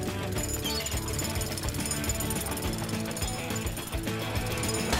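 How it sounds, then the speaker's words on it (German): A cartoon jackhammer drills in a rapid, continuous mechanical rattle, loud and steady throughout, layered with clanking gear-like noises and no speech. "Das Bohren ist ganz schön anstrengend."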